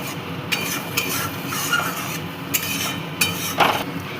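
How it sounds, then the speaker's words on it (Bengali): Water-thinned fried masala stirred in a pan for a Bengali rui fish kalia, a soft bubbling hiss beneath a few distinct spoon scrapes and clinks against the metal, no voices. "এবার দিয়ে দিচ্ছি এর মধ্যে পরিমাণ মতো জল। এবার মিশিয়ে নিচ্ছি।"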